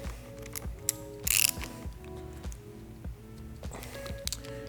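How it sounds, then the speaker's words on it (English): Socket ratchet clicking in short rapid bursts while a 22mm socket tightens Womet-Tech bar ends on a 2022+ Yamaha MT-10 motorcycle, close and crisp, with a brief metallic clatter midway. "we're going to take a 22mm socket and tighten down the bar ends"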